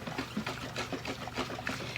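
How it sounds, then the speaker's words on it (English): Fresh herbal juice is poured from one container into a bigger jar, a faint liquid trickle and splash running steadily for a couple of seconds. "So I'm going to pour all this out."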